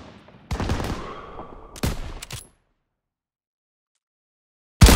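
Machine gun covering fire crackles in Call of Duty WW2 on Veteran difficulty, two close bursts of rapid shots separated by a brief gap, followed by silence and a sudden loud blast at the end.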